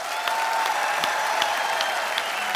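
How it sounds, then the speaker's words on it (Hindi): On a television comedy show, a studio audience applauds to welcome guests, a Padma Shri ustad and his family of singers, with sustained, dense, even clapping from many people that stays loud throughout, with no talking over it. "जोरदार तालियां हो जाए।"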